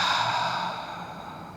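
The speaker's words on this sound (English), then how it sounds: "Exhale out of the mouth, HA." A strong breathy exhale pushed out through the mouth during a yoga sun salutation, a single close airy whoosh that fades gradually over about a second and a half.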